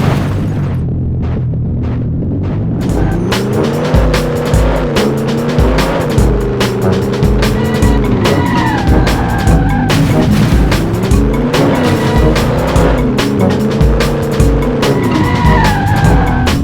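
A car in the PlayStation game 007 Racing drives hard with a loud, constant engine drone that rises and falls with the revs, while frequent tire squeals and skid screeches cut through close up.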